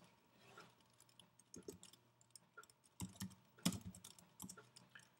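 Quiet computer keyboard typing while entering HTML and CSS code, a scattering of soft, irregular key clicks with a few louder taps, in a faint room with no talking.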